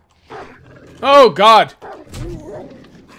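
A zombie dog in the video game 7 Days to Die gives two loud, harsh barking roars back to back, with rougher growls around them and a man's brief exclamation mixed in.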